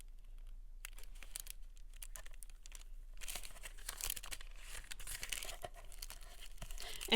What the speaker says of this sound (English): I'm going to put some extra tape on here.